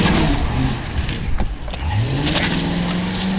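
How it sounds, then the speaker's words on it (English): A car engine revs and the vehicle pulls away, its pitch rising steadily as it accelerates, loud and close. "she took off with the car"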